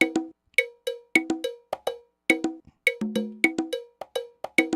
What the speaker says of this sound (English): if you were to play just the conga and the cowbell stuff